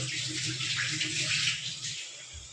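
Water splashes steadily from a tap or vessel into a cooking pot of chicken in black masala, a soft continuous pour that thins out near the end.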